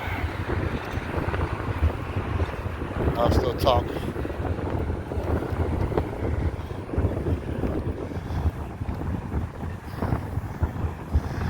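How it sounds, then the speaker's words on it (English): Steady wind buffets the microphone with a low rumble throughout, while a person talks over it briefly. "I don't know how the sound quality is with all this wind"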